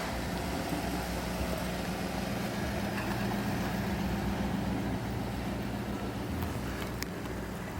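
Car engine idling after a G2 transmission replacement, a steady low hum running evenly throughout with no talk.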